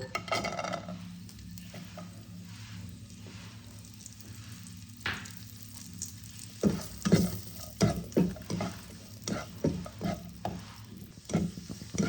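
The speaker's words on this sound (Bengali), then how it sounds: "এবার আমি কিশমিশগুলোকে ভেজে নেব।" Raisins fry in a pan for rice kheer, giving a soft steady sizzle with a spoon stirring and scraping in irregular clicks and scrapes that grow busier toward the end.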